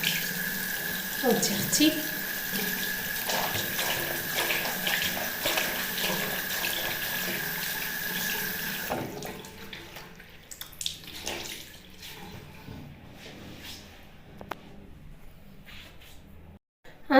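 Tap water runs steadily into a sink during facial skin washing, a close, continuous splash that fades out partway through; someone speaks briefly over it.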